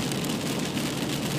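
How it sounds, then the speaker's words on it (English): Rain drumming steadily on a car during a drive, a dense continuous patter that is loud and even, with no talk. "this very sound of rain makes me feel like hell"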